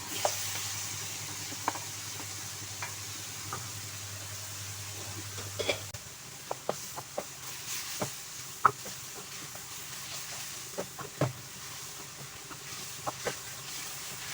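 Onion masala fries together with beef in a pan for pulao, a low steady sizzle with a run of scattered utensil clicks and scrapes as it is stirred.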